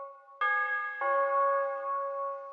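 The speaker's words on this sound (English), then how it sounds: "I also added this bell sound effect just to spice it up a little bit." A bright bell sound effect in an FL Studio trap beat rings out alone: a soft tone, then a clear struck chime layered over it that sustains and slowly fades.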